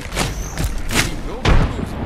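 Frag grenades in the video game Apex Legends go off as a rapid series of heavy booms and thuds. Several blasts land about half a second apart, with brief in-game voices mixed in.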